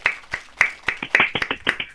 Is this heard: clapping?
yes